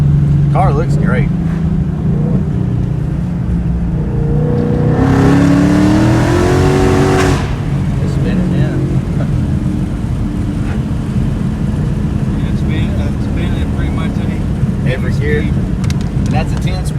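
Supercharged 2018 Ford Mustang with Coyote V8 and active exhaust, rising in a loud rev for a couple of seconds under steady cabin rumble, with people talking in the car around it.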